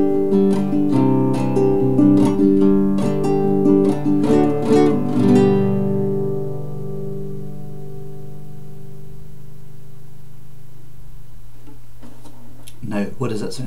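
An Ibanez or Cortez electro-acoustic guitar, heard unplugged, is strummed and picked in a short country-style passage. A final chord rings out and slowly decays, then a few more plucked notes follow.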